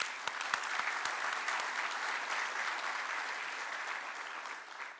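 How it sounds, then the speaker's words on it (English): Steady audience applause at a healthy-building movement event, a dense wash of many hands clapping that holds evenly throughout, moderately loud and tapering slightly at the end, with no talk over it. "Big round of applause to you, by the way."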